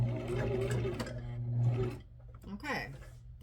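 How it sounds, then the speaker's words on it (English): A home sewing machine runs in a steady whir for about two seconds while stitching a clothing edge, then stops and a voice speaks close by. "lock up the stitch here."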